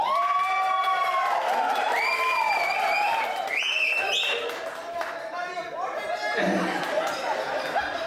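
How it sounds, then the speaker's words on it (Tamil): At a Tamil pattimandram debate event, an audience applauds and cheers, the clapping blending with prominent voices and crowd chatter throughout. "உங்கள் கரகோஷங்களுக்கு மிக்க நன்றி."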